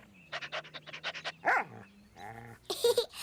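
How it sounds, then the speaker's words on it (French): A cartoon dog in a Caillou episode gives a quick run of short barks, then a whimpering whine and panting, loud and close with no talk over it. "Oui, c'est vrai que c'est un très beau chien."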